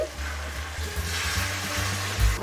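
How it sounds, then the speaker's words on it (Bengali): Hot water goes into a pan of chicken masala for Dakbanglo chicken, and the hot spice mix answers with a low, steady sizzle and bubbling. It stays fairly quiet, with a short louder splash near the end. "এবার আমি এর মধ্যে ফোটানো গরম জল দিয়ে দেব।"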